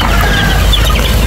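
Chicks of a national breed of game chicken peep and cluck close by in a continuous loud chorus, with no talking.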